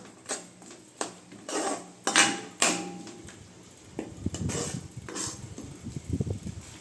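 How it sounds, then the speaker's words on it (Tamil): Soya chunk (meal maker) gravy stirred and sautéed in a pan, with sharp metallic clinks and scrapes of a spoon against the pan in irregular bursts, close and moderately loud, followed by softer sizzling and stirring. "இப்போ வந்து நல்லா மிக்ஸ் பண்ணி விடுங்க பச்சை வாசனை போகிற வரைக்கும் நல்லா வதக்கிக்கணும்"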